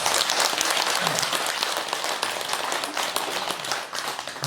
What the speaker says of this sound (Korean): 박수 한번 더 쳐주십시오